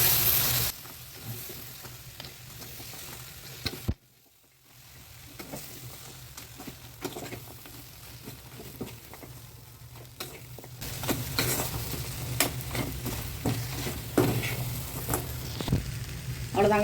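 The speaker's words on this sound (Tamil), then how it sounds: "நல்லா மசாலா அடி வரைக்கும் நல்லா கிண்டி விட்டாச்சு" Oats chilli chapati pieces being stirred through a frying masala in a pan, with a continuous close sizzle, scraping spoon strokes throughout and a short quiet gap before the frying and stirring swell louder again.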